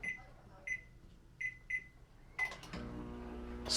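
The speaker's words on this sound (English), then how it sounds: "I got the microwave timer set for 5 minutes" Several short electronic beeps spaced apart as a microwave timer is set for five minutes, then a low steady hum as the microwave starts running, close by.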